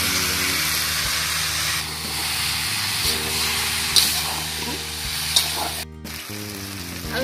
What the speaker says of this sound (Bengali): আদা বাটা, জিরি বাটাটা দিয়ে দিলাম খিচুড়ি ভাজার মধ্যে।